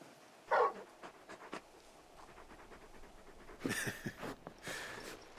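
In the video game Final Fantasy XVI, a large dog pants in quick, breathy bursts close by, with short huffs and soft whimpering noises scattered between the breaths.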